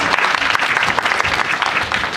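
Steady applause from an audience at a Japanese cultural festival event, as a speaker is welcomed onto the stage, dense continuous clapping filling the whole stretch with no talk over it.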